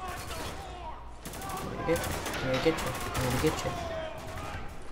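Gunfire in the Spec Ops: The Line video game, bursts of shots crackling through a noisy firefight with voices shouting over it.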